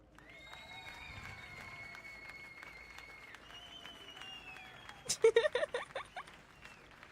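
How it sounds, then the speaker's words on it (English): A clapping sound effect plays during a horror-game livestream, a short burst of crisp claps near the end following tonal game sounds and chimes, with quiet background chatter underneath. "I also have a clapping one."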